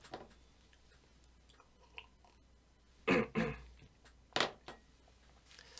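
A man coughs and clears his throat a few times, two close harsh bursts followed by another, fairly near and loud against a quiet background.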